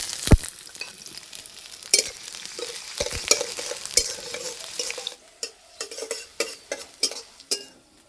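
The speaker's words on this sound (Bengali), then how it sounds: "তেলে দেবো পেঁয়াজ" Onions sizzle in hot oil in a kadai while a utensil stirs and scrapes them, with sharp clinks and a steady crackling hiss that thins out toward the end.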